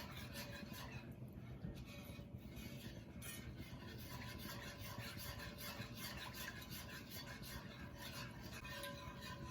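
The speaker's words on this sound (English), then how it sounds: "Whisk it until it gets thick and bubbly." Whisking milk and butter in a pot for a mac and cheese sauce, a steady continuous scraping and stirring that runs close and even from start to finish with no talk.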